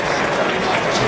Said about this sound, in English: The crowd enjoyed that, and we haven't heard kind of contented ripples of applause around Craven Cottage a great deal so far this afternoon